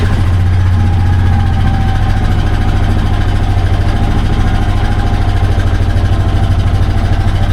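An engine idles right after starting, running on non-ethanol fuel, with a steady, loud, close rumble and even low throb that holds unchanged throughout.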